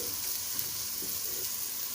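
Ginger garlic paste frying in a pan during chicken korma cooking, a steady close hiss of sizzling oil with faint stirring, no talk.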